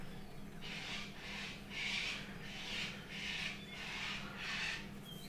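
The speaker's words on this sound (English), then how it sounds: "You will hear that I have lots of cockatoos outside destroying my trees" Cockatoos outdoors among trees, a series of about seven harsh, raspy screeches repeating at a steady rhythm over a low background hum, moderately distant and fairly faint.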